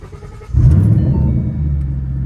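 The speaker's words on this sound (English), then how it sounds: "Nice little muffler delete on there." A Shelby GT500 with a muffler delete lets out a deep, loud exhaust rumble that swells suddenly, then settles into a steady throaty drone nearby.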